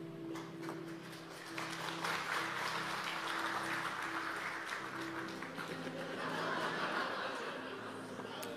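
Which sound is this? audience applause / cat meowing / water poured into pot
audience applause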